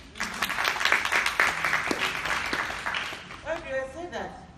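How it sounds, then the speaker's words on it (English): An audience at a women's leadership symposium at a university claps steadily, a dense patter of applause that runs under a speaker's voice throughout. "I would like to give a hand, big clap for President Kagame, Paul Kagame."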